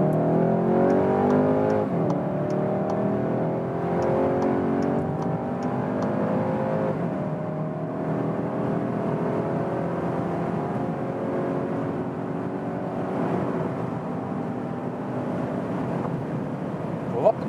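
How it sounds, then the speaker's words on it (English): A Skoda Octavia RS with a 245 hp TSI engine accelerates hard on a German autobahn toward 200 km/h. Heard from inside the cabin, the engine and road noise rise steadily and loudly through long gear pulls. "we'll just accelerate it all out here on the German motorway"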